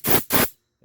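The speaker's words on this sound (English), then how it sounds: "take that air hose that I got right there and just all around the" A compressed air hose blows debris off the cylinder head of a BMW R1150GSA motorcycle engine: two short, close, sharp hissing blasts in quick succession, then quiet.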